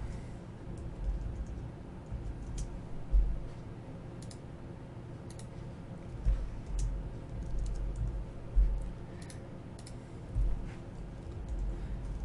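Typing on a computer keyboard while entering data into a tolerances table in a drawing program, a close run of light clicks with irregular rhythm and occasional louder key strikes.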